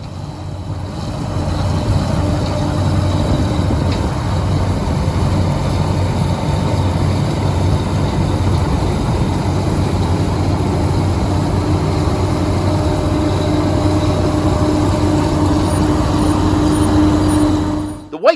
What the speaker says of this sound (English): The white 7300 combine had a 3-speed transmission with a variable speed drive.